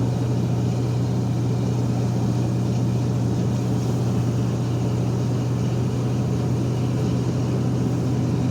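A truck engine drones while shifting down a gear in snowy weather, with the retarder in use; a loud, steady, low rumble fills the whole stretch evenly, with no talking.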